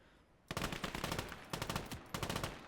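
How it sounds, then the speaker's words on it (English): A machine gunner fires in a World War II strategy shooter game, three loud, rapid bursts of automatic gunfire separated by brief pauses, close and sharp with no talk over them. "Our machine gunner will be able to get a decent amount of"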